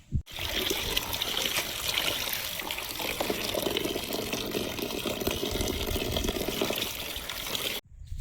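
Water streams steadily from a tap while fresh vegetables are washed, a continuous close trickling rush that starts abruptly and cuts off near the end, with no talking.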